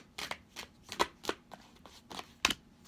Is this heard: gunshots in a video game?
no